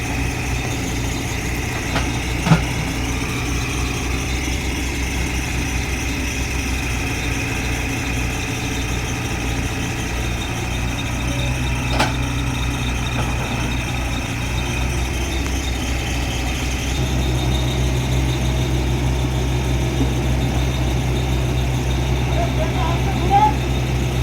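A tracked chain vehicle stuck in soft riverbed mud drones steadily as its engine labours to climb out, a loud, continuous mid-pitched rumble that swells toward the end with faint clanks.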